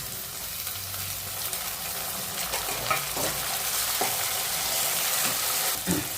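Onion, curry leaves and tomato sizzle in hot oil in a pan, a steady close-up frying hiss broken by a few stirring scrapes, with no voices.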